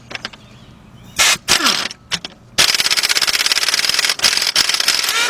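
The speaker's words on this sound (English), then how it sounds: "24 millimeter, I'm using my 1/2-inch drive air gun." A 1/2-inch drive air impact gun removes a 24 mm bolt during timing chain work on a 2014 Volkswagen Beetle 2.0. A few clanks and air bursts come first, then a loud, sustained, rapid hammering rattle up close.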